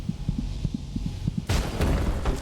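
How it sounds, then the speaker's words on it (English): A slow, muffled heartbeat from the video game Hollow Knight thuds in low paired beats under a hum, then gives way to a louder, brighter wash of game sound. "Is this my heartbeat now?"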